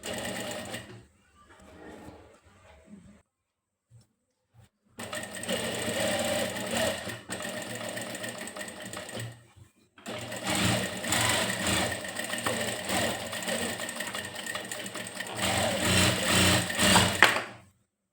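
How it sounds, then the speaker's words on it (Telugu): Sewing machine stitching the edge of a shirt, a few short starts followed by two long steady whirring runs of several seconds, close and loud, alone without talk. "ఇలా ఎడ్జ్ కుట్టేసి మళ్ళీ దీని మీద ఫస్ట్ స్టిచ్చింగ్ చేయాలి."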